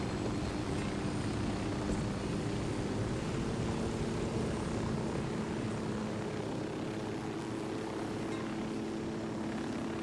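A helicopter in the video game Ghost Recon Wildlands drones steadily with a loud, continuous rotor and engine hum, heard alone without talk.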